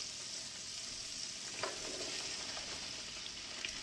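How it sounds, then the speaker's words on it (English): Shrimp, broccoli, carrots, onions, sugar snap peas and red peppers sizzle in a pan with a dense, constant frying hiss, broken by a few faint stirring clicks. "I'm going to add in those vegetables"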